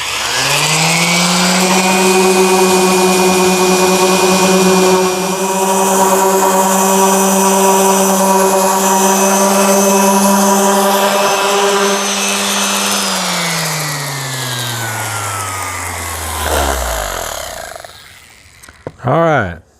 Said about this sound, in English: you gotta learn to love sanding, and I love sanding